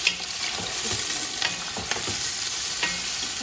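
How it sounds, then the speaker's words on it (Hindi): Onions frying gently in oil for chicken noodles, softened rather than browned; a constant close sizzle with intermittent light stirring scrapes and taps, no talking. "ऑयल में हमने प्याज शामिल कर देना है और प्याज को ज़्यादा ब्राउन नहीं करना"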